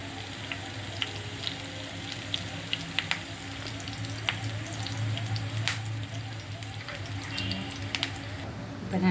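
Fennel seeds and curry leaves fry in hot oil, a steady close sizzle with scattered crackling pops running throughout, no one speaking.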